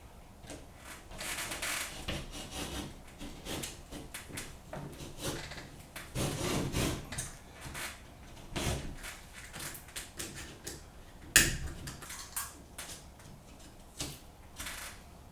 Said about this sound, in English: To repair this, just cut around the raised area that's bubbled up.